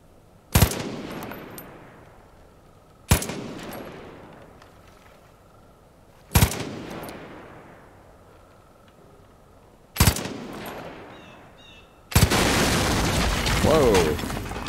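Gunfire in the Far Cry 5 video game, shooting at a target: four separate loud shots or blasts spaced a few seconds apart, each ringing out and decaying, followed by a sustained burst of noisy fire at the end.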